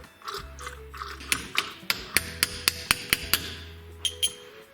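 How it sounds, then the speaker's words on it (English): Connecting rod bolts being loosened on a 1983 Porsche 911SC engine during assembly, heard as a run of sharp metallic clicks and ratcheting snaps at a fairly steady rhythm, close by, over a low background hum. "Just pulling all of my rod bolts so we can put in new ones"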